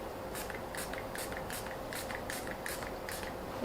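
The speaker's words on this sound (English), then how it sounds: "And again, I'm going to spray it." A series of short misting sprays onto a layer of melt-and-pour soap, about eight evenly spaced bursts, each a soft airy hiss, over a steady low background.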